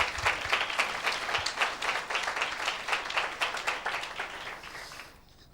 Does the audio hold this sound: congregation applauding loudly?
yes